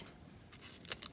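Scissors cut out paper stickers, two quick, quiet snips close together at the end of a brief, near-silent moment.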